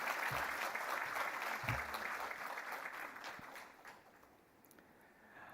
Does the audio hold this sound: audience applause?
yes